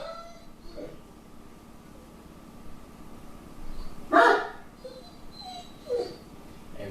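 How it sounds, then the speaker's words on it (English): A pet dog named Emma barks a few times off-mic, with one sharper bark standing out and softer yips around it, against a quiet indoor background during a talk. "sorry if any of that barking is picking up over here"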